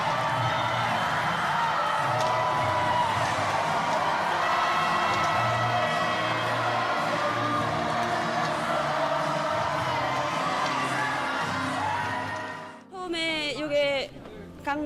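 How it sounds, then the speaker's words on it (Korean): A team cheers together and chants a slogan after a 1-6 defeat: a loud, dense crowd roar with shouts and whoops that holds steady, then drops away near the end to scattered voices and talk. "우리는 하나다라고 슬로건을 외치며 함께 환호하고 있습니다"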